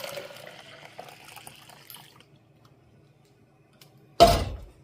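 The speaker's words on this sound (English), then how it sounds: "all I do is pour my milk in" Cultured milk poured into a clean, freshly washed container for homemade yogurt: a short, loud splashing gush near the end, after quiet kitchen sounds with no talking.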